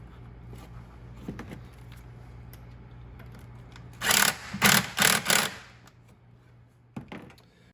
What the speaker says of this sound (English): And then you want to tighten it down with an 8mm socket.